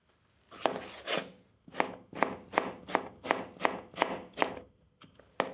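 A knife dices tomatoes into small cubes, about ten crisp, evenly spaced chops in a steady rhythm, close and clear with no talking.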